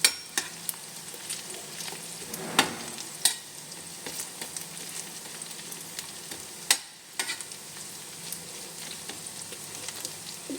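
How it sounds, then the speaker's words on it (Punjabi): Taro root (arbi) pieces fry in a pan with a steady crackling sizzle, broken by a few louder clinks and stirs; no one speaks. "ਤਾਂ ਕਿ ਸਾਰੀਆਂ ਜੜੀਆਂ ਨੇ ਅੱਛੀ ਤਰ੍ਹਾਂ ਫਰਾਈ ਹੋ ਜਾਣ"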